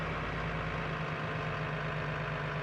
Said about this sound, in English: Oh, I love the sounds of this engine.